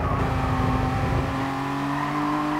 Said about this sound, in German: So, diesmal bremse ich rechtzeitig an.